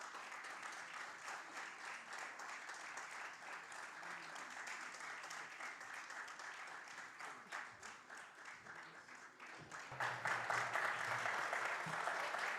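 An audience applauds a guest coming on stage at the Odisha Literary Festival 2025, a long, steady round of clapping that swells louder near the end, with faint voices mixed in.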